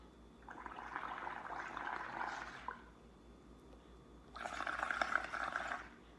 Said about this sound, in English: blow up a bunch of bubbles